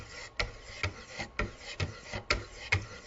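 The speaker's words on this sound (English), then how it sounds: "I'm going to switch over to the 600 grit stones now" Separate soft, smooth scraping strokes from 600 grit stones sharpening a knife on a Wicked Edge guided sharpener, about two per second at close range, with quiet gaps between them and no talking.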